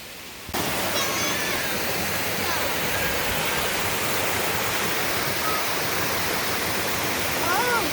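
Mountain waterfall beside the Appalachian Trail in New Hampshire near Mt. Moosilauke, a loud, steady broadband roar of rushing water that sets in abruptly and stays close throughout.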